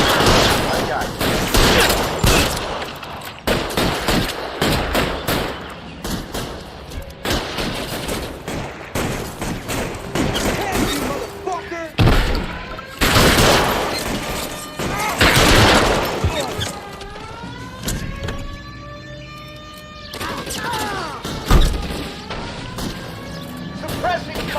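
Heavy gunfire in a street shootout from the game L.A. Noire, with rapid bursts and repeated shots over a busy mix of crashes and impacts, loud and close, with voices shouting over it.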